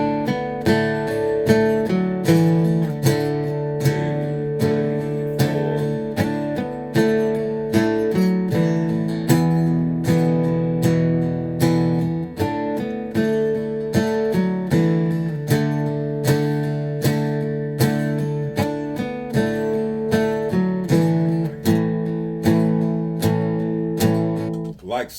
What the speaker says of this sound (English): I'm gonna start my looper here, and it's gonna play that chord,